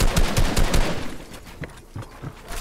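Rapid bursts of automatic gunfire in the video game Fortnite, loud and close, shot after shot in a fast stuttering stream that thins out toward the end.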